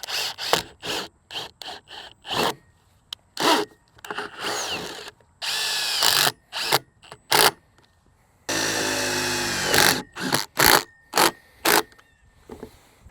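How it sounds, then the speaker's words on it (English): A power tool drives a set screw into the base of a vinyl fence post. Short, loud, whirring bursts start and stop repeatedly with brief silences between them, plus a couple of longer sustained runs. "take a simple set screw and attach this right at the base"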